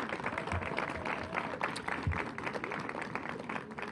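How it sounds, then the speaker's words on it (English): Attendees at a development groundbreaking ceremony give a round of applause, a steady, moderately faint patter of many hands with some low rumble underneath, continuing throughout without a clear end. "Can we please get a round of applause for that in a second?"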